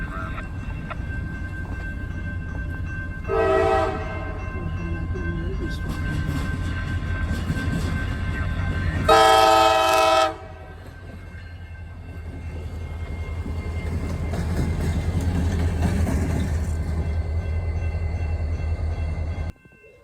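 A CSX freight train led by locomotive 4035 rolls through Plymouth on the Saginaw Sub, its diesel rumble steady and near, with two loud horn blasts sounding over the passing cars.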